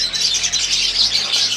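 Dense, continuous chirping and twittering comes from wild-type green personata lovebirds, close and loud, with many overlapping high calls and no speech.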